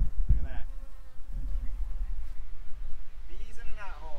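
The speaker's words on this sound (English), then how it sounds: "Bees in a knot hole." Honey bees buzz around a knot hole in a tree during a trap-out, a low steady hum running under a voice, with a few louder passes near the start and end.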